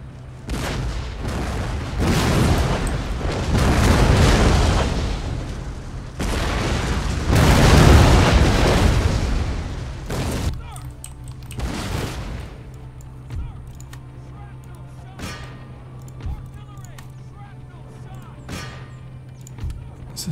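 Howitzer artillery fire in the strategy game Empire Total War: repeated booming volleys and crackling gunfire rolling across a battle, loud bursts early and around the middle, then thinner scattered shots.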